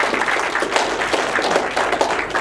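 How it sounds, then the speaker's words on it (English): A brief burst of audience applause at a museum visiting-artist talk, steady scattered clapping from a modest crowd lasting a couple of seconds. "I've done nothing to deserve your applause"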